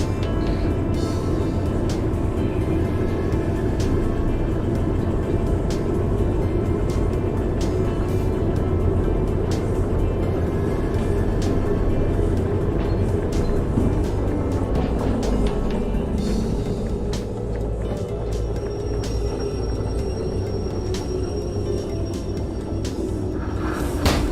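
A locomotive rolls along the rails in the train simulation game Derail Valley, with a steady, loud low rumble and rolling drone running continuously throughout and no talking.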